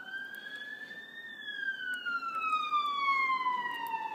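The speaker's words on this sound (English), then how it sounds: "ambulance going past." An ambulance passes along a main road, its siren wailing loud and steady and slowly falling in pitch as it moves off, over faint traffic rumble.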